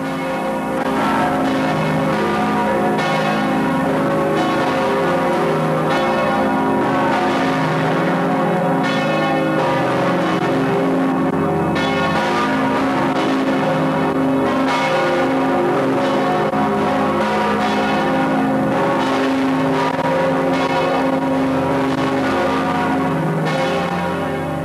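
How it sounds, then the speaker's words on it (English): Giant bells in the tower of Riverside Church peal loudly and continuously, deep overlapping strikes ringing out in a steady rolling sequence with long resonant hum sustained between hits, no voices. "the giant bells in the tower begin to peal"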